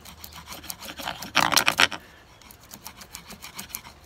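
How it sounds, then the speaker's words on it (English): Repeated close rasping scrapes as excess is scraped off an espresso drum held against a wall, with a loud burst of fast strokes midway, then lighter rhythmic scraping. "Scrape off all that excess that's sticking out."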